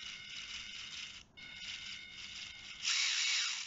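Tiny steering servo on a WLtoys K989 1/28-scale RC car whirring in short, high-pitched electric bursts as it sweeps back and forth, close and fairly faint.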